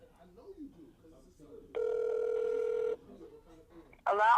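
A telephone sounds a single steady electronic tone for about a second while a call is placed again, with faint background talk before it and a voice answering right after.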